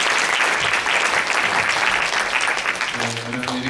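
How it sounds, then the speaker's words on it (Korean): A church congregation breaks into loud, sustained clapping to welcome a pastor, a thick wash of hands throughout, and a voice begins speaking as it tails off at the end. "간단한 인사말을 전해주시는데 박수로 한번 모셔볼까요?"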